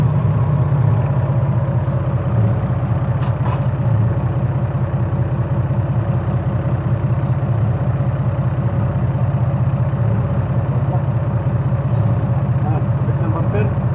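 The engine of a Hyundai Genesis sports car runs at a steady idle close by, a constant low throbbing drone with people talking over it.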